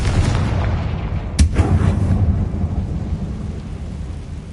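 A Confringo fire spell in Hogwarts Legacy bursts as one sharp, loud blast with a rumbling, thunder-like decay, set over a steady background of game ambience.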